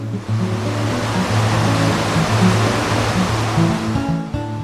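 Maria Cristina Falls near Iligan City, a 320-foot waterfall, gives off a steady, dense roar of rushing water, loud and continuous with a low rumble under a broad hiss.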